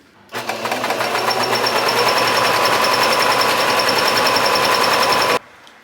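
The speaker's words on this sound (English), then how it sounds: "I'm just gonna sew it and worry about the hem later." A sewing machine stitches a garment in one continuous, close run of rapid mechanical chatter, starting abruptly, holding steady for about five seconds, then stopping sharply.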